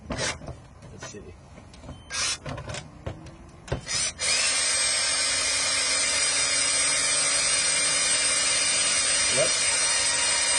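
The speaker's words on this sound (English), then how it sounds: "I have a gas can here, and stick this in the gas can and drill it up." A drill-powered pump siphons fuel into a gas can. A few scattered knocks and handling clatter lead into a sustained, even drill whine that runs steadily to the end.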